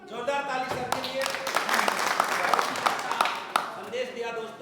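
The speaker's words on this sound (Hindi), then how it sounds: "जोरदार ताली सर के लिए।" An audience claps for a speaker at a motivational gathering, a dense burst of applause that swells in the middle and fades, with a voice talking over it at either end.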